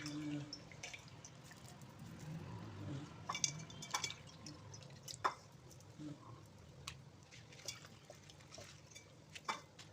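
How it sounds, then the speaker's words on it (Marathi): Quiet, intermittent sloshing and squishing as chillies are rinsed in water, with small splashes and drips scattered throughout. "त्या मिरच्या आपण इथे आता धुवून घेणार आहोत"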